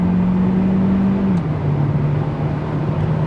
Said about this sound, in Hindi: I can downshift to third gear over 80 kilometers per hour and